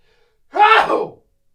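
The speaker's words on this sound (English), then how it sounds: "Sneezing." A single human sneeze, short and sharp with a quick breathy intake, loud and close against near silence.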